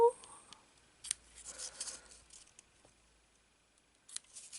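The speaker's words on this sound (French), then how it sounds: "Je coupe parce qu'il est trop long." Scissors snip through a length of craft material that is too long, a few short crisp cuts heard close up among quiet handling, with a brief snip again near the end.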